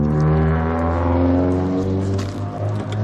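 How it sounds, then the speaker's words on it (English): A loud car passes somewhere in the background, its engine a steady droning roar held for about three seconds with no talking over it. "Loud car in the background."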